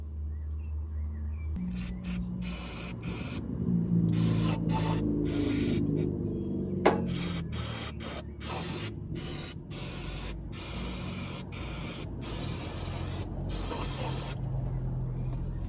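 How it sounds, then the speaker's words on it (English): Brake cleaner sprayed from an aerosol can during a car service, a long series of loud hissing bursts separated by brief pauses, with a faint mechanical clatter partway through. "use some brake cleaner"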